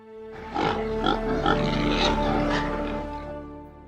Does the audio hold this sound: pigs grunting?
yes